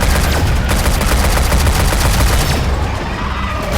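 Rapid automatic gunfire from the shooter game Shadowgun Legends rattles loud and close in dense bursts, easing slightly near the end.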